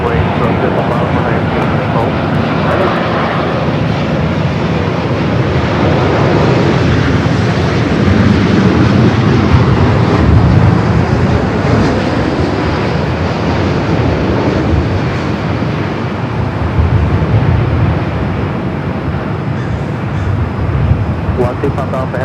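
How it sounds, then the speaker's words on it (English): A heavy airliner takes off from runway 24 Left at LAX, its jet engines a loud sustained roar that fills the whole stretch, close and continuous, while radio chatter runs underneath. "runway 24 left, clear for takeoff"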